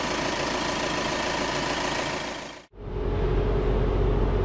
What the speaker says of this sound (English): We are driving now with 60 k's an hour, 1400 revs